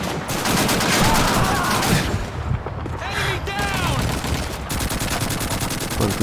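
Rapid gunfire crackles in the video game Call of Duty 2, with dense bursts of automatic fire and explosions, short gaps, and some faint sounds layered in between.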